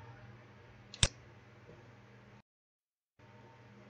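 A single crisp mouse click on a button in QGIS to enable the Map Swipe Tool, one sharp tick over a faint electronic hum, followed by a short stretch of silence.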